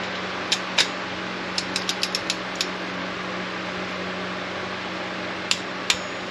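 Sharp metallic clicks from a torque wrench set to 15 foot-pounds come as spark plugs on a 2012 Impala 3.6 LFX engine are tightened, scattered in short clusters over a steady hum of fan noise.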